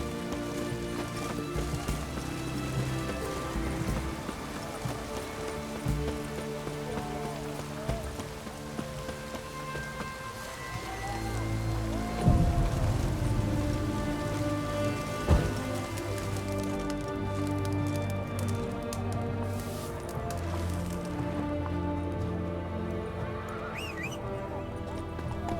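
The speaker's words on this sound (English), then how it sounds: "Looks like rain." Rain falls steadily across a fantasy open world in The Witcher 3: Wild Hunt, a dense wash of patter under game music, with a few thuddy impacts and hoofbeat-like clatter midway.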